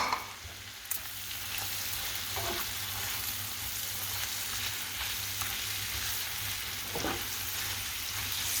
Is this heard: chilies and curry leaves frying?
yes